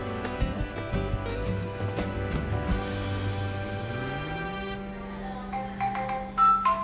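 An imoo kids' smartwatch rings for an incoming phone call, a bright electronic melody of repeating sustained tones that plays steadily and fairly loud, shifting pitch partway through.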